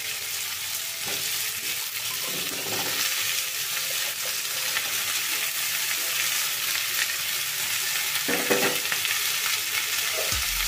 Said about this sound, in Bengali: এই পেঁয়াজটার সাথেই ধুয়ে কেটে রাখা আলু আর ফুলকপিটাও আমি দিয়ে দিচ্ছি